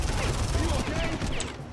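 Gunfire in the Far Cry video game, a dense continuous spray of shots and crashes at steady loudness, with a voice speaking over the action.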